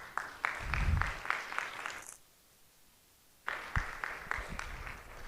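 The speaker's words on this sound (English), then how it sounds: "So please give her a round of applause." A small crowd claps for a couple of seconds, stops briefly, then bursts into another short round of applause.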